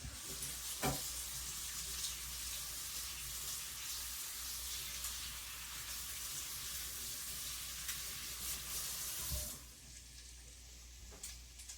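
Bacon and carrots sizzle and fry steadily in a pan, a continuous even crackling hiss at close range, with a faint clink near the end and no talking.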